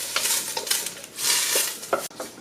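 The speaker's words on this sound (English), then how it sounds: "You want to go ahead and saute" Diced pasilla pepper, jalapeno and garlic sauteing in a pan, with soft sizzling and repeated scrapes and taps of a utensil stirring close by, no talk.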